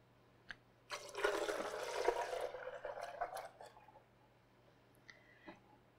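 Four cups of milk pour steadily into a Vitamix blender jar for butternut squash soup, a sustained splashing liquid rush lasting a couple of seconds before tapering off, followed by a few faint clinks.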